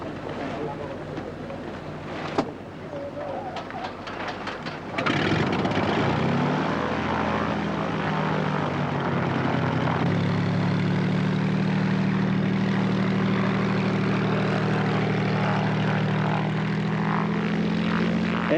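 A light propeller aircraft's engine sounds at a remote airstrip, rising from a quieter idle into a loud, steady drone whose pitch shifts as it powers up, with some talk underneath.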